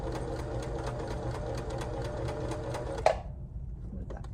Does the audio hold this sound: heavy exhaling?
no